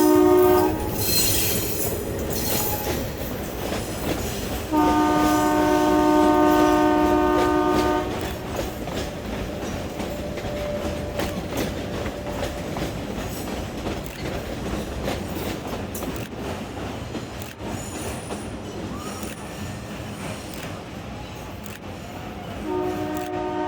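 A heritage meter gauge train on the Marwar-Goram Ghat-Mavli line passes close by, sounding a loud horn in two blasts before the steady rumble and clatter of wheels on rails carries on.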